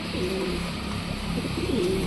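Pet pigeons cooing close by, two soft rolling coos at the start and end over a steady background hum.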